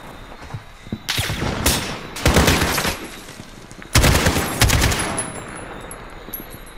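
AK rifle gunfire in Call of Duty Modern Warfare, two loud close bursts of rapid automatic shots separated by a short gap, with faint single shots and game ambience around them.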